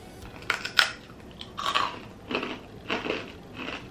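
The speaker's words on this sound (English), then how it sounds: "a crispy rice cracker flavored with Japanese plum and covered with chunky granulated sugar. It is a simply and crunchy snack" A crispy Japanese plum-flavored rice cracker coated in chunky granulated sugar is bitten and chewed up close. Several sharp, dry crunches come in bursts roughly half a second to a second apart, with no talking.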